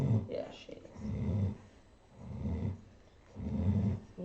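Clara the dog snores in slow, regular rhythm, three deep rasping breaths close to the microphone, each swelling and fading with quiet pauses between.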